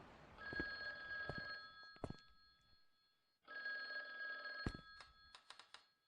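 Two long bursts of a ringing telephone in the horror game The Guest, separated by a brief silence, mixed with sharp clicks and knocks.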